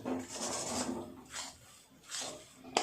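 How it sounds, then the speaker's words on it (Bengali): A spoon scrapes and rasps through a coconut mixture in a wok, three or four slow, gentle strokes at close range with no talk. "তো এইভাবে আস্তে আস্তে নেড়ে নেড়ে পাকটা করে নেব"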